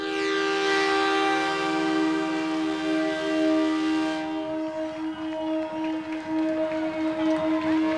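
Gran Capitán passenger train, a Mesopotamian line through Entre Ríos and Corrientes, arriving at Garupá station in Misiones, sounds a long, loud sustained horn for about four seconds, followed by rumbling wheels and rail noise as it rolls in.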